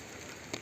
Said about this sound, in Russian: с самой ночи идет дождь